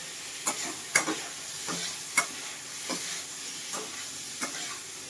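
Turmeric powder being stirred into a Bengali fish curry in a pan, a soft ongoing sizzle broken by several distinct spoon scrapes and clinks at irregular intervals, close with no talking.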